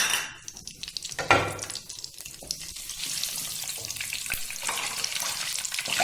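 Nigella seeds and cumin hit hot oil in a kadai, setting off a steady, close sizzle with bright crackling hiss that holds throughout, starting with a brief louder burst.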